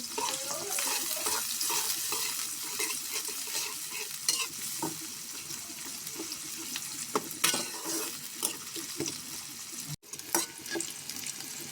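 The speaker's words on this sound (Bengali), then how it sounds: "পেঁয়াজটা আমি একটু নরম করে ভেজে নেব।" Chopped onion and green chili fry in hot oil, giving a steady, loud sizzle with scraping stir strokes throughout and a brief cut near the end.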